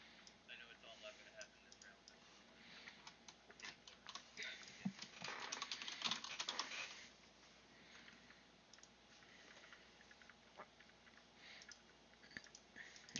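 Soft computer keyboard clicking: scattered light taps that thicken briefly into a quicker burst midway, faint and low in the mix beneath quiet voices.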